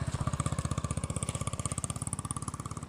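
A motorcycle engine runs close by with a steady, rapid pulsing thump at idle or low revs, loud and even for the whole stretch, with no speech over it.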